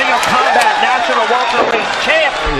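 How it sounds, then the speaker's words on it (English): Arena crowd roaring and cheering after a knockout at a Ring of Combat welterweight title fight, a loud sustained wall of voices with whoops and shouts throughout. "This crowd is going crazy."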